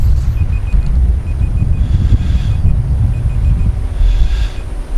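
An XK X380 GPS drone with a long-range mod flies home at full throttle, its motors buried in a steady roar of wind buffeting. Short electronic beeps repeat in the background.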